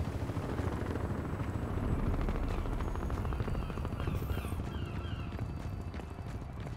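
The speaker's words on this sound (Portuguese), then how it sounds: "Helicóptero." A helicopter in the shooter game Crysis 2 drones with a heavy, continuous rotor thump and rumble, loud and close, with scattered game effects over the top.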